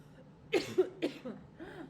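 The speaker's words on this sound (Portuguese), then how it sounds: "É um pigarro que tá na garganta." A short throat-clearing cough, two or three harsh bursts close to the microphone, then quiet.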